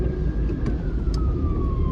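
A siren from an emergency vehicle on a wet Sunday afternoon, its steady tone gliding slowly downward through the whole stretch, moderately distant over constant rain or road noise, with no talking.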